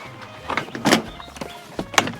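A Ford Ranger's interior door panel is pulled away from the door, with a few sharp plastic snaps and clicks of clips releasing and some rustling, close and fairly loud.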